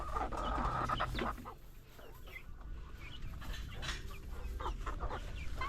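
Chickens cluck and call continuously after feeding in a poultry pen with brown laying hens and breeders, a busy layered flock chorus at moderate loudness with no talking.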